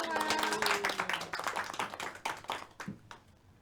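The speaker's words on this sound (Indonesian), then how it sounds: "Tepuk tangan untuk kita semua." A classroom group claps hands together during a teaching session, with crisp individual claps at first that thin out and fade toward the end, while a voice speaks or sings over the early part.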